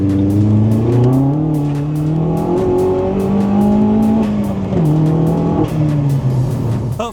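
A Vauxhall Astra VXR engine revs loud and close, its pitch climbing then dropping repeatedly as traction control cuts and restores power, with rapid stuttering interruptions across several seconds.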